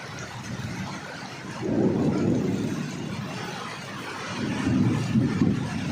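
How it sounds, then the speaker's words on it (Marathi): Heavy summer rain pouring down with a steady loud hiss, with a deep low rumble of thunder swelling twice in the background. "हे बघा किती जोराचा पाऊस पडतोय."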